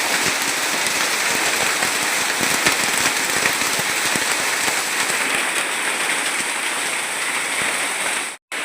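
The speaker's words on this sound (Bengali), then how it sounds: "আমার একটু তো প্রচন্ড পরিমাণে শিলাবৃষ্টি চলেছে।" An evening hailstorm with strong wind drops large stones. It makes a dense, constant hiss of hail and rain on surfaces, sprinkled with sharp clattering impacts, then stops abruptly at the end.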